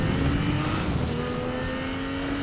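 A car engine drones steadily in a video game, a constant engine tone running with a faint higher whine, at a moderate even level with no voices.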